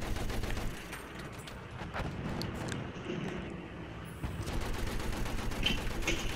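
Gunfire in the video game Battlefield 1 crackles as dense, overlapping bursts, with sharp cracks and rumbling shots ringing out through the whole stretch, loud and busy throughout.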